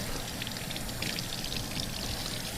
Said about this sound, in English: On va laver les poireaux pour être sûr que c'est propre.